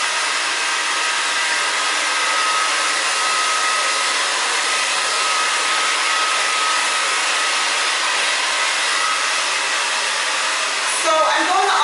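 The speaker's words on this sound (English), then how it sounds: "The key is to always move your fingers too when you're blow drying." A handheld hair dryer blows steadily and close up for nearly twelve seconds while fingers work back and forth through thin hair in a short A-line cut. The airflow holds an even, unbroken roar with only a slight shift at the very end.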